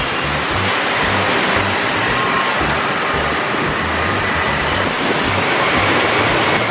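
Heavy rain pours down in Kanjirapally, Kerala, a dense, loud, unbroken hiss of water that holds steady throughout with no voices.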